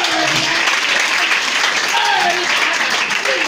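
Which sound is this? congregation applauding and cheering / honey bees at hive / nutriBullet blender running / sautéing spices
congregation applauding and cheering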